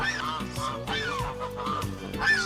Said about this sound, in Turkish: Kazlarımız, ördeklerimiz bazen buraları böyle kendi halinde kullandılar artık.